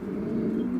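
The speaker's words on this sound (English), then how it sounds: "Fantastic looking pigeon again" A pigeon in a loft gives a low, steady coo, one sustained throaty note heard close and clear with no voices.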